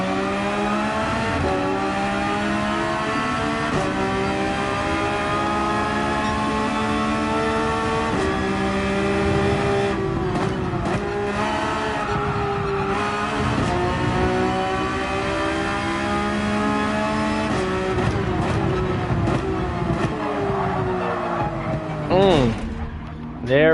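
A Porsche 911 race car in the video game Gran Turismo 7 revs hard through the gears, its engine wailing steadily in rising and falling sweeps with brief shifts, loud and continuous, with a flurry of sharp noises near the end.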